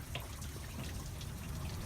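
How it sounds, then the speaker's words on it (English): Water sprayed over the windshield of a GMC Sierra pickup during a leak test, a continuous soft splashing and trickling with scattered drips, fairly quiet and steady throughout. "Water's going all over the windshield."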